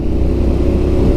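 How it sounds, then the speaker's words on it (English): A Triumph Street Scrambler motorcycle engine runs steadily close by, a dense low rumble holding a constant level for about a second with no voices. "She likes to be revved."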